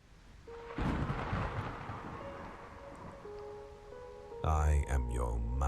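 A sharp crack of lightning in a video game rolls into a long, rumbling thunder swell that slowly fades, with a faint sustained tone under it, then a loud distorted voice effect cuts in near the end.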